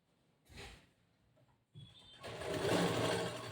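Sewing machine stitching a blouse: a brief whirr, a pause, then a sustained mechanical running burst that grows louder toward the end, close by.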